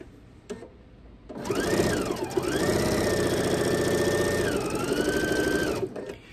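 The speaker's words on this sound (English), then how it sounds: "So I'm gonna sew right to about there" A sewing machine stitches quilt binding in one steady, loud burst of about four and a half seconds, its motor whirring at an even pace with a brief change in pitch partway through and no talk.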